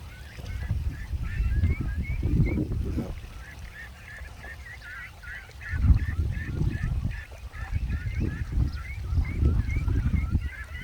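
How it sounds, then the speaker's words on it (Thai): A flock of ducks in a harvested rice field sets up a continuous chorus of nasal quacking and honking, loud and layered throughout, with no talk over it. "จะเป็นหน้าที่ของเป็ด ไล่ทุ่งนะครับ"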